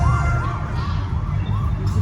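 A police car siren wails in repeating rising and falling sweeps at a middling distance, over a low rumble of street noise and a murmuring crowd during Hurricane Ian.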